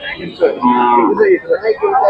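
A bullock at a cattle market moos loudly and close by, a drawn-out low call followed by shorter grunting lows.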